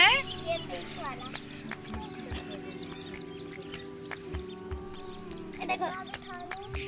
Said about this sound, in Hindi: ये हमारी डकलिंग्स हैं।